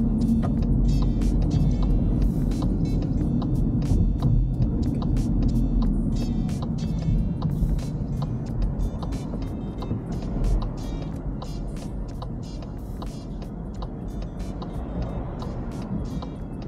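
A car drives steadily during a driving test, its engine hum and road rumble loud and continuous from inside the cabin, with occasional ticking over it.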